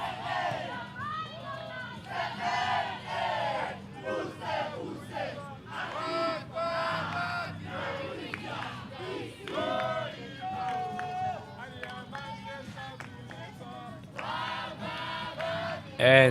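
A large crowd of Malawian and Namibian supporters at a Region 5 Youth Games volleyball match roars and cheers continuously, with shouts and chants rising in waves and a loud burst at the end.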